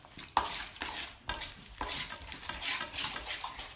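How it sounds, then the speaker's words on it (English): Crab and sauce mixed and crushed together in a bowl, giving wet, squelchy stirring and scraping sounds with a few sharp clinks of a utensil against the bowl, close and steady with no talk. "we're gonna crush the crab a little bit so we don't have to eat a big chunk of it. And you're just gonna start mixing the sauce"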